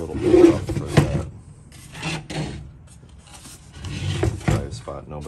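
An abrasive pad, much like sandpaper, is rubbed over the wood of a 1935 Philco Cathedral radio cabinet in several separate rasping strokes, heard up close alongside a talking voice.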